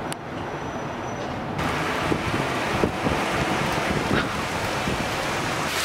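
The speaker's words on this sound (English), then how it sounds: "So it is legitimately a hailstorm right now and I can't record anymore." A hailstorm pours down outdoors, a steady dense roar of ice pellets pelting surfaces that swells louder after a short moment and keeps going with scattered sharper hits, with no talking.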